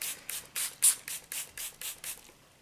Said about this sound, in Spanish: Y ya le ponemos un poquito de nuestra agua así en spray.